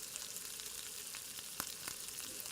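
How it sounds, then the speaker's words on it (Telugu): Pieces of vanjaram fish fry in oil on a high flame, giving a steady, close crackling sizzle with a few sharper pops and no voices. "హై ఫ్లేమ్లో పెట్టుకొని ఫిష్ ముక్కలని వేగనివ్వాలి"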